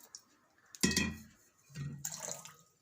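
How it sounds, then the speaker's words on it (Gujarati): Water is poured into a pan in two short, close splashing bursts, separated by a quiet pause, with no speech over them. "તો આમાં સહેજ આપણે પાણી નાખીશું, તળિયે બેહે નહીં એમ"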